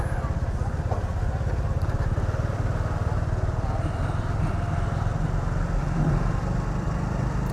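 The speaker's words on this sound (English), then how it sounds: "Traffic's running smooth for a Saturday night." Motorbike engines hum and putter nearby in Saturday night road traffic in Pattaya, a constant rumbling drone of passing small engines, with someone talking over it.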